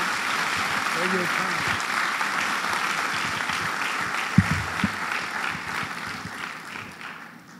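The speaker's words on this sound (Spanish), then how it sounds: "Tribútele un aplauso a Jesús" Sustained applause from a church congregation at a Spanish-language worship service, a steady wash of many hands clapping that fades toward the end, with voices heard over it.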